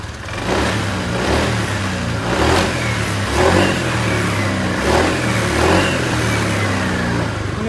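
A Honda Vario 125 scooter engine with a remapped ECU revs close up, rising and falling in several throttle blips over a steady mid-pitched engine drone, with no talking.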